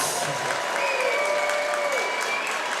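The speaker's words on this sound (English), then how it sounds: "a round of applause for both of these amazing athletes" Crowd applauding both fighters after a WSS Muay Thai bout, steady clapping at moderate distance with a faint whistle-like tone gliding over it.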